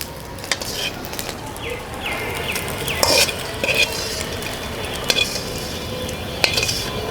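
Fish frying until crisp in a pan for a Bengali village meal gives a steady close sizzle, with a few sharp clinks of a utensil against the pan through the clip.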